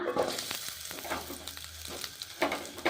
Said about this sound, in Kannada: ಈಗ ನೋಡ್ರಿ, ಈರುಳ್ಳಿ ಫ್ರೈ ಮಾಡ್ಕೋಣ.